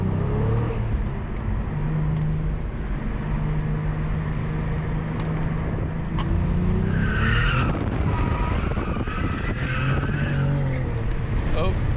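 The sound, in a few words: Cadillac CT4-V Blackwing drifting, tires skidding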